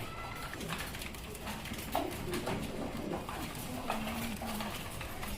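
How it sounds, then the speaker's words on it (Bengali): Jacobin pigeons coo in low, soft repeated calls close by at a pigeon seller's, set against a busy, noisy background with scattered clicks and rustling. "এখানে অসাধারণ একজোড়া জ্যাকোবিন কবুতর আছে"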